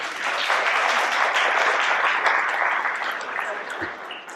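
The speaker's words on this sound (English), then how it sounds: "let's have a round of applause for our chocolatiers as we get going today" An audience at a chocolatiers' roundtable event applauds its chocolatiers, a full, sustained burst of many hands that tapers slightly near the end.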